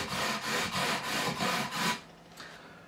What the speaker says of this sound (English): this 400 grit is smoother, obviously, than the 240 grit. It's going to remove some of these deeper scratches